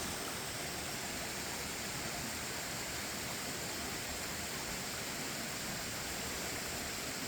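A waterfall pours over rocks in a steady, dense rushing roar that stays constant throughout, with no other sounds.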